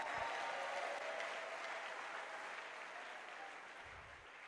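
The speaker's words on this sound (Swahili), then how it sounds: "Pigie Bwana Yesu makofi na vigelegele." A church congregation applauds for Jesus, a dense, even wash of clapping that slowly fades over a few seconds, with no clear ululation standing out.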